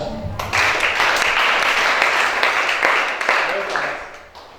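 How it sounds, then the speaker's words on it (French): Congregation at a church service claps loudly and steadily, with a dense wash of applause starting sharply and continuing with voices mixed in before tapering off at the end. "Acclame ça."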